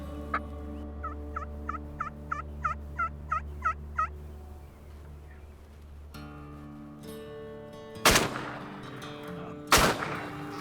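A wild turkey gobbles in a repeated series of close, rhythmic bursts near a hunting blind on opening day of turkey season in Ontario, followed after a pause by two loud, sharp shotgun blasts.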